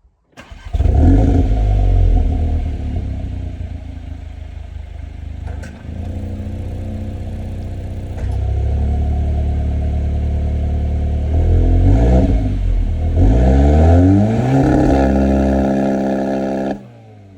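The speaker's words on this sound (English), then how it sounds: "sport startup is a lot louder because there's a valve in the exhaust with the sports exhaust" Audi S3 8Y with optional sports exhaust fires up loudly with an open exhaust valve, then holds a steady idle with a couple of small rev blips, close and alone without speech.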